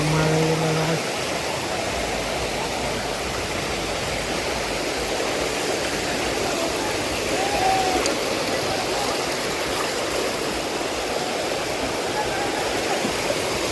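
Ariyil waterfall in the Kannur–Kasaragod area pours in a steady, loud broadband rush that stays constant throughout, with faint voices briefly audible near the start.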